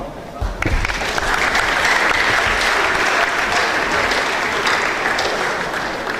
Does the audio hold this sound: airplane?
no